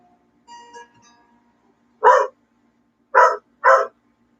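A dog gives three sharp, loud barks, one alone and then a quick pair, after a brief faint whine, with silence around them.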